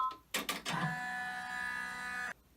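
An embroidery machine stitches vertical lines to divide the pockets on a zippered bag, starting with a few clunks and then settling into a steady mechanical whir that runs for about two seconds before stopping.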